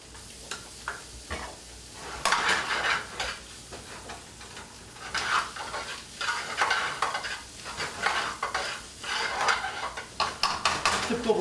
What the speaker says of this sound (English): Well, the last thing to saute. And then I add fresh ginger root.